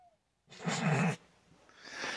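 A cat gives a short, close vocal sound, breathy and brief, followed by quieter rustling in a shop where a John Deere 310D backhoe is worked on.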